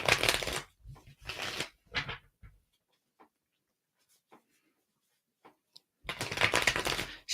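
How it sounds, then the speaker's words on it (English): Tarot cards shuffled in a few quick riffling bursts near the start, then near silence with faint ticks, before another longer crisp shuffle toward the end, close and clear. "Shuffle, shuffle."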